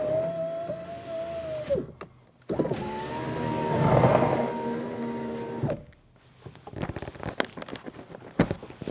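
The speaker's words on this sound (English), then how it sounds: "I may have to plug this stupid switch in to get the window to go though." A Chevrolet Silverado Duramax pickup's power window motor whirs close and steady in two runs, a shorter one followed by a longer, louder and noisier pass with rising strain, then scattered clicks and rattles as it stops.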